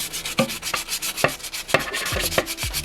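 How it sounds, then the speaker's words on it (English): Hand wet sanding of peeling painted steering wheel trim from a BMW E87/E90/E92 with 320 grit wet sandpaper: close, steady scratchy rubbing in repeated strokes, with sharp taps at regular intervals and no talking. "I use the 320 wet sandpaper to smooth the surface"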